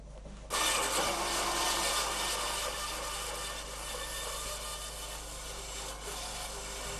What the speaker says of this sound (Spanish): en la sierra de cinta, desbasta el taco quitando la mayor cantidad de madera que puede hasta dejar un esbozo de la pieza